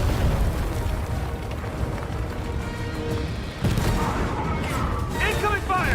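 Explosions and incoming fire in the Fortnite video game, a dense continuous roar of blasts and rumbling with a sharp boom near the middle, loud and close, with a voice talking over it.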